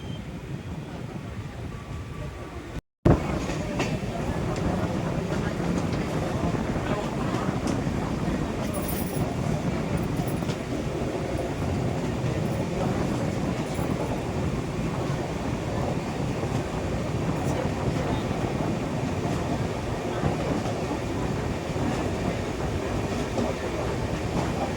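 A passenger train on the Nalgonda to Tirupati route rolls into Piduguralla station running late, a steady loud carriage rumble and rattle filling the whole stretch after a brief dropout near the start.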